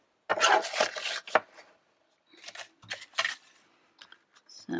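Card stock being cut down to size for a handmade elf card, a run of rough scraping cutting strokes, then a pause and a few shorter snips and rasps close up, with no talking.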